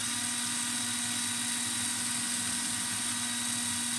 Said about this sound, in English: you're going to turn the drill on, and you're going to hold the file at a 45 degree angle